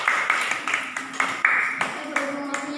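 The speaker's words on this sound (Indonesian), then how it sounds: "Dari aplaus untuk Mbak Rina" Classroom applause for a student named Rina: a short round of rhythmic clapping from a small group, steady and moderately loud, with some speech underneath.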